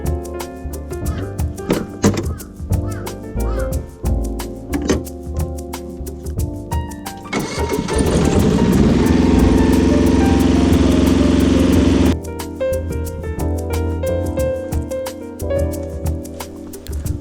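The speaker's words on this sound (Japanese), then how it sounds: "エア抜きしたらねエンジンかかりましたね。" A mini excavator's engine runs after its fuel lines have been air-bled, a steady mechanical drone that swells loud and continuous for several seconds amid clattering work noises.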